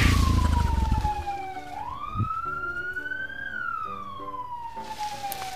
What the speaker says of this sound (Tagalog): Pero bakit parang tunog ng ambulansya yun?